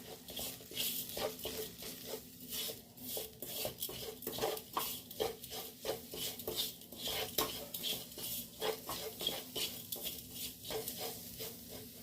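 Dry samosa filling spices, garam masala, Maggi masala, red chilli powder, salt and sugar, are stirred in a bowl. A spoon scrapes and clinks against the bowl in a quick, steady rhythm for the whole stretch, close and fairly loud.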